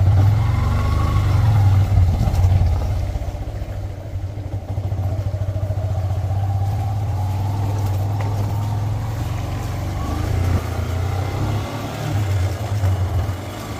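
A vehicle creeps slowly along a flooded, muddy hillside road in heavy rain, its engine droning low and steady while water and mud splash and hiss under the wheels throughout.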